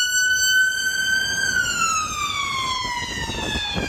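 An emergency vehicle siren sounds on a city street in Nottingham, its wail holding high and then sliding slowly lower as the vehicle passes, moderately loud over faint traffic.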